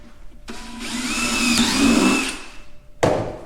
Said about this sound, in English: Just put it on the drill and turn it really fast.